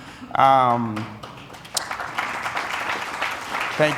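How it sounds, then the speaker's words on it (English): An audience at a talk on international development claps for Simone and her team; a voice speaks briefly first, then a steady wash of applause rises and carries on to the end. "that applause was for Simone and her team"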